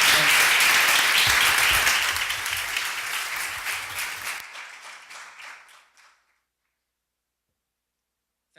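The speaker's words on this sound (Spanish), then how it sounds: "Un aplauso para Seb." Audience applause at the close of a talk on digital technologies and social media: dense clapping that holds steady, then thins out and fades to silence within about six seconds.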